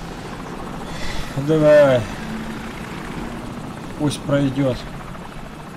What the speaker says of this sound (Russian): Вражеский вертолет, ложись!